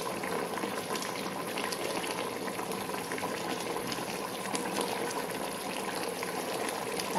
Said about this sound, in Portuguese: agora vamos deixar aqui reduzir o molho